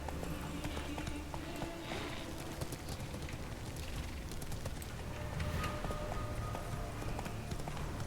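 Roach, a horse in The Witcher 3 video game, gallops in a steady, fast clip-clop of hooves that runs the whole time, close and loud over a busy game-world background.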